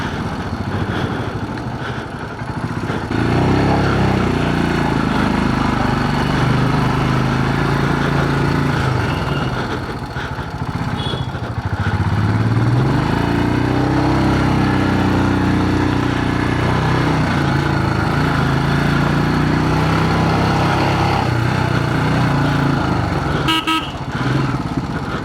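A motorcycle engine labours continuously in first gear while climbing an off-road track toward Parashnath Temple, with a loud, close drone rising and falling over about twenty-five seconds and a short honk-like burst near the end.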